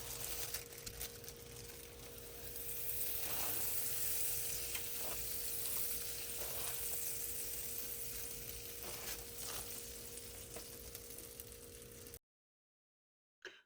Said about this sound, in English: start off by seasoning your pan with a half stick of butter. Let that melt for just a few minutes.